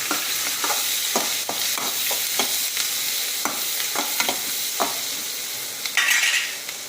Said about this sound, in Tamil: காஞ்ச மிளகா இது கொஞ்சம் வதங்கட்டும்